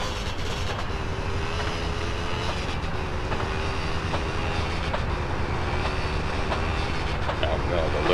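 A train in the video game Grand Theft Auto San Andreas, a steady rumbling roll with a faint tonal whine and periodic rhythmic clacks, continuous throughout with low talk underneath.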